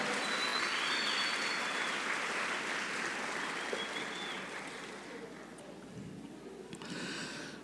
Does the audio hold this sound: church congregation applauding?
yes